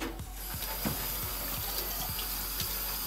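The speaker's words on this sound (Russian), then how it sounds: "просто горячей вот водой сполоснул и все?" Hot water runs over a car's EGR valve being rinsed, a constant splashing tap flow broken by regular faint clicking or rattling ticks, with no talking.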